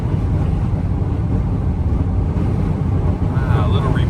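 Strong wind gusts hammer a van driving along an Alaskan road, a dense roaring buffet layered over the low engine drone, loud and continuous from inside the cabin.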